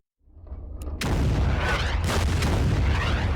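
Artillery bombardment in the strategy game Order of Battle erupts from near silence into a loud, sustained rumble of overlapping booms and blasts.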